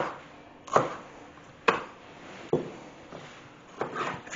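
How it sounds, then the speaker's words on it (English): Knife chopping bell peppers into roughly 1 cm cubes on a cutting board, five or six distinct, spaced thuds, close and fairly loud, with no talking. "I'm going to cut these into about 1 centimetre cubes"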